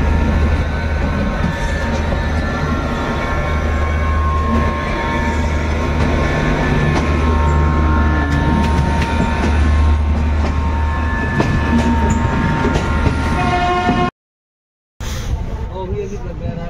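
Continuous low rumble and rhythmic rattle of the Amritsar Mail 13006 passenger train leaving Amritsar Junction, heard from inside, steady and loud, with a short dropout near the end.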